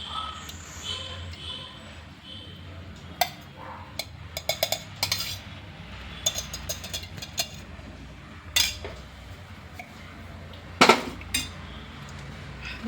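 A spoon clinks against a metal pot as ghee is added, in scattered light taps and a few sharper clanks over a steady low hiss of room noise, close and moderately loud, without talk.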